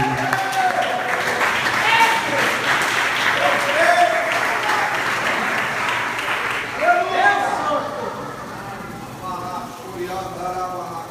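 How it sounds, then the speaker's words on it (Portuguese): Church congregation clapping for the Lord during a Portuguese-language worship service, a sustained, rolling wash of applause with voices singing and calling out over it, fading somewhat toward the end. "fique de pé e aplauda o Senhor em nome de Jesus"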